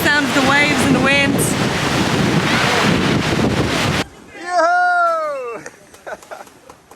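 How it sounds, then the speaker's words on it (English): Ocean waves wash and wind buffets the microphone loudly on an Aruba shoreline, a roaring rush under a speaking voice, then dropping away as talk continues more quietly. "Hopefully you can hear me over the sound of the waves and the wind."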